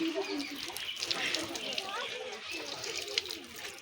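Water runs hard from a tap in a palace courtyard on a hot day, a steady close splashing rush with a person talking over it.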